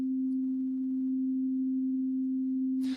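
A simple sine wave sounds as a pure, steady mid-low electronic tone, held unchanged for about three seconds before stopping with a brief burst of noise.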